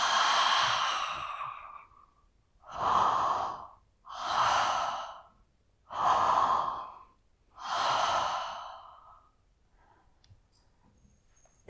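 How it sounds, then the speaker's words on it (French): A singer breathes in deeply and lets the breath out through the mouth in a series of loud, close, airy breaths, roughly five long swells separated by pauses, before the sound fades to near silence. "je vais faire une inspiration et je vais faire une apnée"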